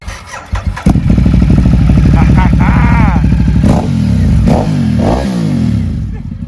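A custom Ducati Monster 1200 motorcycle fires up nearby, then settles into a loud, lumpy idle with several sharp throttle blips rising and falling, while people talk faintly underneath.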